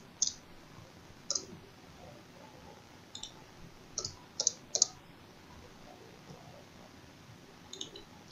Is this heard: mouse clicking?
yes